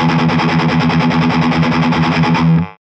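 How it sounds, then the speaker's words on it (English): A heavily distorted electric guitar chugs palm-muted straight sixteenth notes at an even, unaccented level for under three seconds, loud and close, then stops abruptly. "I'm going to play some straight 16th notes with no dynamic at all."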